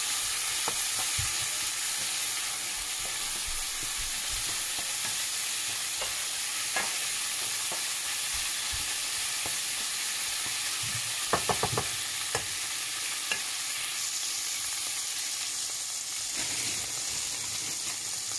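Onion frying in oil in a home pan, a steady soft sizzle and hiss close by, with a few brief stirring clicks and scrapes partway through.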